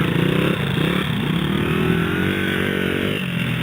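A new 150 race dirt bike engine revs nearby, a loud buzzing drone that rises and dips through several throttle blips, with no talking over it.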